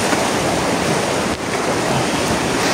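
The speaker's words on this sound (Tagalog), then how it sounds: "So ngayon, malakas yung ilog." A strong, fast-flowing river rushes nearby as one loud, steady roar that fills the whole stretch with continuous broadband noise and no pauses or voices.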